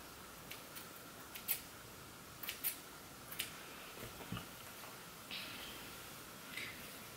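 Scissors snip hair ends during a home trim of straightened hair, giving a few faint, scattered clicks and short cuts spread over a quiet background.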